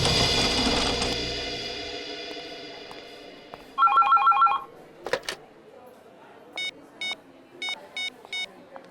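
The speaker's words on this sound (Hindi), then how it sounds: "आपके लिए फोन है।" An electronic telephone ring sounds in two short trilling bursts, then several quick chirping rings follow, fairly loud over a quiet room with a fading tone before.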